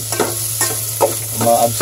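Lemongrass and onion sizzle in hot oil for chicken tinola, with several stirring scrapes breaking up a steady close frying hiss over about two seconds.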